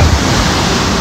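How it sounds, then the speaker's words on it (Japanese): Big ocean waves breaking on the shore at Nagasakibana: a loud, brief wash of surf noise with no voices. "すごい波だね、今日はね"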